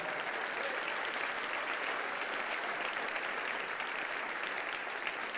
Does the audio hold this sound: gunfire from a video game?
no